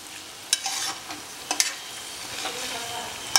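Garlic-ginger paste stirred into a sizzling pan while cooking chilli chicken, a soft steady frying hiss broken by a few sharp scraping clicks of the spoon against the pan, close and fairly quiet with no talking.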